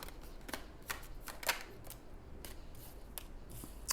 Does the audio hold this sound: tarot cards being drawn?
yes